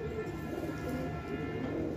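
A pigeon coos softly from a rooftop, a faint, steady low murmur set against a quiet background hum.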